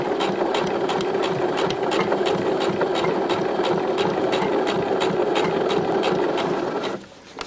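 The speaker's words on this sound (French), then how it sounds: "piquer au plus près du bas des dents du zip sans piquer les dents de mon zip" Sewing machine stitching along a zip on a pair of shorts, a loud, close, rapid rhythmic chatter that runs steadily for several seconds before stopping abruptly near the end.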